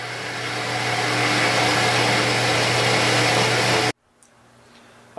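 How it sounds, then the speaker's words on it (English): Grizzly G974 metal cutting bandsaw running through a cut, a steady loud whirring drone with a low hum that stops abruptly, followed by near-quiet and a faint clunk. "Turn the saw back on."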